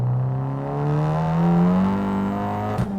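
A big-turbo Fiat 500 hot hatch revs hard with its wheels spinning under boost, the engine note climbing steadily for a few seconds before a sharp clunk near the end.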